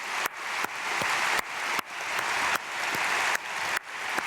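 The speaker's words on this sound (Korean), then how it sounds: "청소년들을 향해서 크게 박수하겠습니다." Church congregation applauding the youth, dense steady clapping from a large crowd filling the hall, continuing evenly with small periodic breaks and no speech over it.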